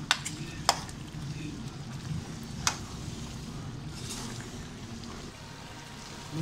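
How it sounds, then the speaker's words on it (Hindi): Sour chicken curry fries uncovered in a pan with a faint sizzle throughout, broken by a couple of sharp utensil clinks while it is stirred. No one speaks. "अब हम इसको खुला छोड़ के भून लेंगे अच्छे से।"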